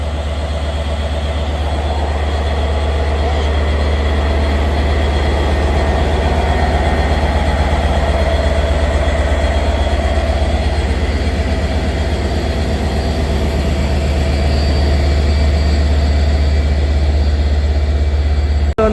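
A big diesel locomotive on a Sri Lankan train idles steadily, a loud deep engine drone with constant low rumble and a faint higher whine, unbroken for the whole stretch.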